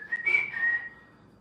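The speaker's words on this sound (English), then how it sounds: "No one knows what that whistle means." A person whistles a short, clear two-part note that slides and fades, alone with no talk over it.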